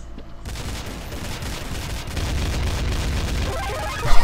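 Shotgun fire in a Counter-Strike: Source gungame match, dense overlapping booming shots in a loud, continuous barrage of gunfire close up, with no speech over it.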